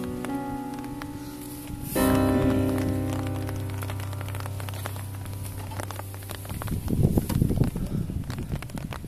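Heavy rain patters steadily over a fishing spot, with a sustained low hum joining midway and a louder burst of splashing drops near the end; no talking.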